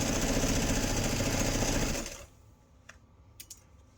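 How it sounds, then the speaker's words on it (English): A sewing machine runs loud and steady for about two seconds as it stitches through several fabric layers of a camp chair caddy, then stops, leaving faint clicks and handling noise. "Put my needle down, turn, keep stitching."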